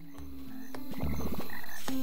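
Frogs in a night-time video game swamp croak in tuned, musical tones, sustained notes broken by a quick burst of rhythmic pulsed croaks, close and clear with no talking.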